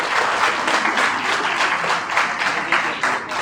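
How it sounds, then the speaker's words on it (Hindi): Audience at an awards ceremony in a hotel hall applauds with dense, steady clapping that swells in small waves across a short stretch, no speech over it. "आपकी भरपूर तालियों में अब्दुल मालिक साहब"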